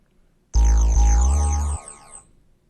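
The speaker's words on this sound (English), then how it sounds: "But I left room for my other 808 that sounds like this." A deep, booming 808 bass note in a beat, sustained for about a second and then cut off, with a short tail fading afterward.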